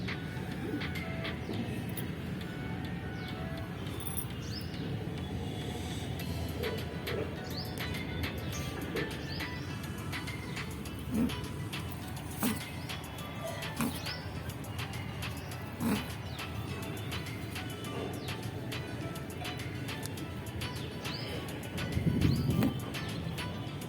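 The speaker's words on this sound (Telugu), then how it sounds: "ఈ బుజ్జి పావురాన్ని తల్లి పావురం సోమర్తనం వీడమని గట్టిగా అరుస్తూ ఎగరమని ఎగరమన్నట్టుగా చెప్తుంది" A mother pigeon coos repeatedly to her young one, with soft scattered calls over a steady outdoor hiss and a louder cluster near the end.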